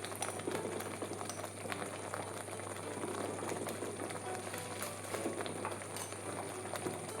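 A ground tomato mixture boiling in a pan, a quiet continuous bubbling with small irregular pops over a low steady hum, no talking.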